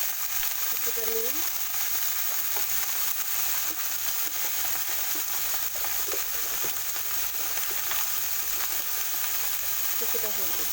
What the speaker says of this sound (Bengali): ঠিক বাঁধাকপিটাকেও একই ভাজা করে নেব।